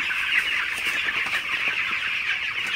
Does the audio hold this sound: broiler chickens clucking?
yes